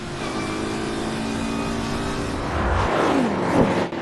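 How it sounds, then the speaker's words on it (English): McLaren F1's BMW V12 engine roars as the car pulls away under hard acceleration, a loud, sustained, rising mechanical howl that swells near the end. "He takes off, the BMW V12 roars"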